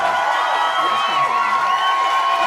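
Canned crowd cheering from a virtual audience sound effect on a talk show, a continuous, loud blend of excited whoops and shouting voices with no break.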